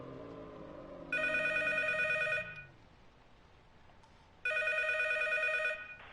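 Phone ringing in the horror video game P.T. (Silent Hills), two loud buzzing electronic ring bursts of over a second each, separated by a short pause, over faint low ambience.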